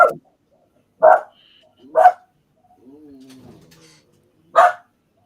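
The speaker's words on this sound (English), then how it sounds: "Whose dog is that?" A dog barks loudly nearby in short, separate woofs spaced about a second apart, with a brief whine between them, heard alone.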